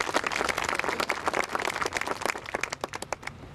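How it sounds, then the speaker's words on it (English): Audience applause for a speaker at a 2005 Wallingford cemetery reenactment, a lively burst of many hands clapping that gradually thins into a few scattered, louder individual claps near the end. "Give Dave a nice round of applause."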